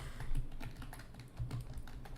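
Computer keyboard typing goes on continuously, a fast close run of clattering keystrokes with no talking.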